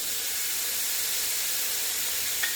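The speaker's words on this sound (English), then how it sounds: "we're going to put this bacon in there" Bacon sizzling in a hot skillet, a loud, even, broadband hiss that holds steady with a tiny click near the end and no talking.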